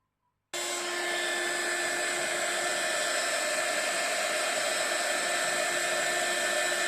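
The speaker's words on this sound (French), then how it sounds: "je vais sécher ça avec mon heat gun" A heat gun drying a damp handmade shaker card in a paper craft project switches on abruptly after a moment of silence, then blows with a steady, loud, close whooshing whine that stays constant without speech.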